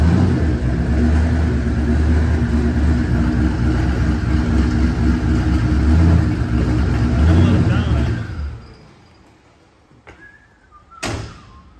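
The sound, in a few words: turbo LS 5.3 truck pulling onto trailer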